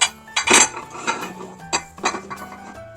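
Plates and dishes clink and knock together as a kitchen is put in order, several sharp ceramic contacts in an irregular rhythm, close and fairly loud, with no talking.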